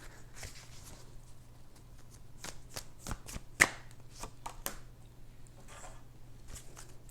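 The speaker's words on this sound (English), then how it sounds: "I'm just going to throw the cards apparently. Let's try this again." Tarot cards are shuffled and riffled by hand in soft, quick flicks and taps, close but faint, with a low steady hum underneath and no one speaking.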